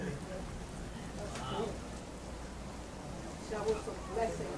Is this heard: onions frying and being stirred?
no